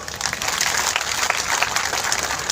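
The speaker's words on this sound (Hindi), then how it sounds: "जोरदार स्वागत करो तालियों का।" Steady, dense applause from a sizable crowd, sustained clapping throughout with no pauses.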